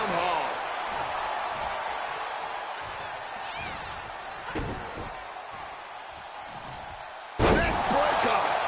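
Professional wrestling match: a wrestler is slammed down onto the ring mat during a televised bout, the impact landing as a sharp thud amid continuous arena crowd noise, followed by a louder surge of crowd reaction.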